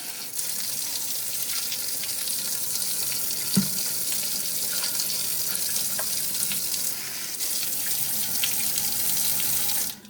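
A tap runs steadily into a sink while sand is rinsed out of a mop bucket, a constant close rush of water with a brief knock partway through, cutting off at the end.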